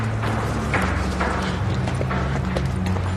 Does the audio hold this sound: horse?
yes